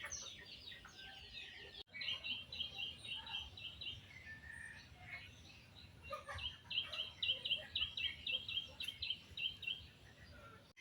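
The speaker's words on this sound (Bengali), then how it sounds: "দেখেন পাখির কিচিরমিচির শব্দ" Small birds chirping and twittering in bursts at a moderate distance in a village on a quiet morning, with soft outdoor background noise.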